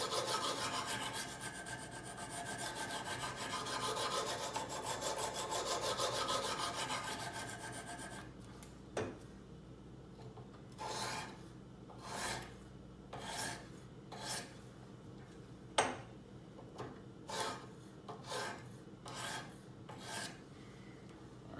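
A knife blade is sharpened on an 80 grit stone in a Kazak UBR guided sharpener, first a continuous rasping grind, then a steady series of separate strokes, each a short scraping rasp repeated at an even rhythm.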